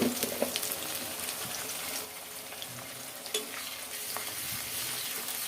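Ginger-garlic paste, onion and spices frying in a pan, a continuous sizzle broken by frequent spoon scrapes and stirring clatter, close and moderately loud with no talking.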